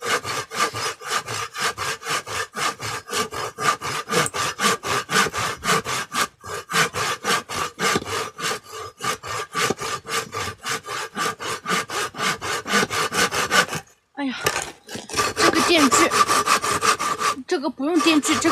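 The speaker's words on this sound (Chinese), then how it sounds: "这个用手锯锯一会儿就好了" Hand saw cutting through wood with a steady, rapid back-and-forth rasping rhythm, close and continuous, pausing briefly twice near the end.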